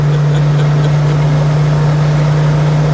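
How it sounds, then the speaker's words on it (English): A 1969 Chevelle SS engine cruising at about 75 mph and 3650 RPM gives a loud, steady, deep droning hum, with an even tone and continuous road noise and no breaks. "75 miles an hour, we're sitting at like 3650 RPM."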